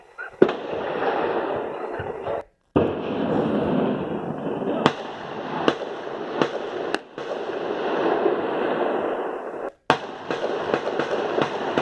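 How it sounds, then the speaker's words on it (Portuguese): Gunshots at night during an ATM explosion robbery, several sharp distant cracks spread through the clip over a loud continuous rushing background, with faint voices now and then. "Em um dos vídeos é possível ouvir o barulho de tiros."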